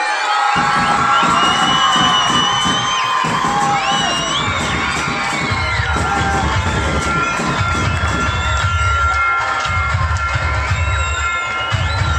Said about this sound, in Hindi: जोरदार तालियां उसामा के लिए